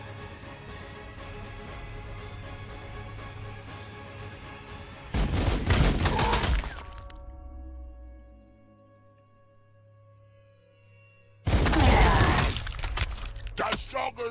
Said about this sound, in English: Artillery's gonna mess me up.